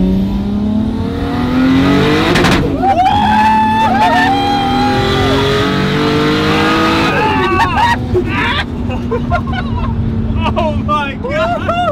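A car accelerates hard on a wet freeway, its engine note rising and falling through gear changes at close range, loud and continuous with tire hiss underneath.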